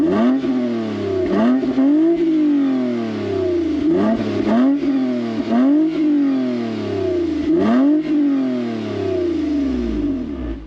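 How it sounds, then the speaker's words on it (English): A 2021 Toyota Avalon TRD with a catback sport-tuned exhaust revs repeatedly, each loud rising blip falling back in a steady rhythm of about five throttle pulls, close by with no talking. "I'll fire it up so you guys can hear what the engine sounds like real quick."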